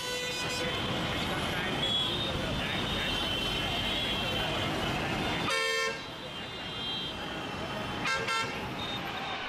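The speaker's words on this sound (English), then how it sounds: "road traffic sounds," Busy road traffic fills the scene with a steady, loud roar of passing vehicles, and car horns blare in two short bursts near the end, with faint voices mixed into the background.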